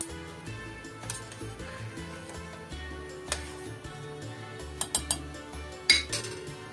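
Metal clinks and clatters from a pot and utensils as brown sugar and peeled strawberries go in for a compote, several sharp taps bunching toward the end over a quiet kitchen background.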